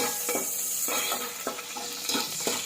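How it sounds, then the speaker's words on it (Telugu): Chopped garlic sizzling in a hot pan as a spoon stirs it, with a steady frying hiss under repeated scraping strokes roughly every half second, close up. "ఎల్లుల్లిపాయలు వేసుకున్నాక ఒకసారి కలుపుకోవాలి"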